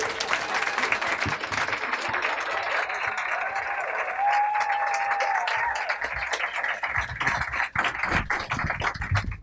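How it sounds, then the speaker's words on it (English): An audience applauds an author at a book event: dense, sustained clapping from a full room that keeps going steadily for several seconds. "So everyone give him a round of applause."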